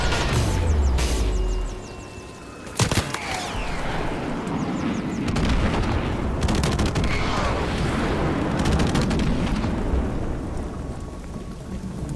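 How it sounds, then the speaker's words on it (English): Airstrike explosions and rolling gunfire in a free first-person shooter game, with heavy low booms and dense crackling shots filling a loud, continuous battle soundscape, plus a sharp blast near the middle. "Friendly airstrike on the way."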